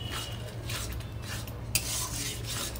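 Spice masala for egg keema curry stirred and sautéed in a pan, giving a steady soft scraping and rubbing with a low sizzle underneath, close and continuous, with one sharper scrape partway through.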